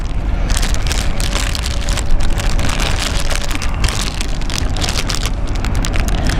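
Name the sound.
rain falling on equipment cover outdoors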